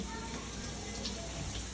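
Water pours steadily from a tap into a cooking pot for homemade baked macaroni and cheese, a continuous close splashing rush with no breaks.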